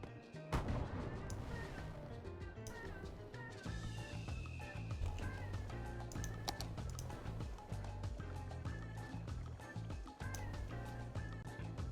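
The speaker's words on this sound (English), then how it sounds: "But that's fireworks going off." Fireworks bursting in the Cities: Skylines city-builder game, a dense run of sharp pops and crackles layered over continuous background game music, steady throughout.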